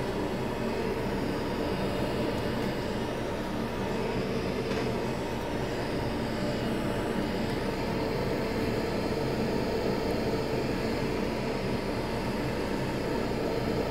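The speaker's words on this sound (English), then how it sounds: "Extractor on. Hot air active." An Atten hot air rework station blows steadily with a fume extractor running, making an even broadband whoosh and fan drone that holds at a constant moderate level with no talk.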